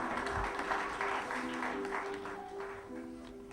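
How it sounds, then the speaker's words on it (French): An audience at an award ceremony claps warmly, a sustained wash of applause that fades slightly toward the end, with some tonal background sound mixed in. "Vraiment, je souhaite que vous l'applaudissiez très vivement."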